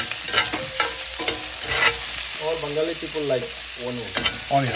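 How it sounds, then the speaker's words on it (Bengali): Onions frying in a pan, a steady sizzle under stirring and scraping, with bits of nearby voice or music-like tones over the top. "আপনারা এই পেঁয়াজটা মিনিট পাঁচেক ভাজবেন খুব বেশি না জাস্ট একটু নরম হয়ে যাওয়া পর্যন্ত"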